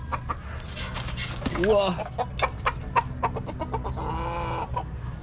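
A large rooster judged fit for cockfighting clucks in a few loud, close bursts, with people talking and exclaiming around it.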